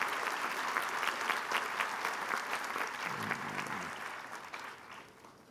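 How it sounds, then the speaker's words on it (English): Sustained audience applause at a college commencement ceremony as the trustees rise, a dense wash of many hands clapping that holds steady and then slowly tapers off. "give them a round of applause"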